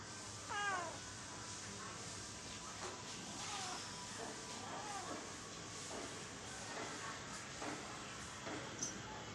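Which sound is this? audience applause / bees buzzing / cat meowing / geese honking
cat meowing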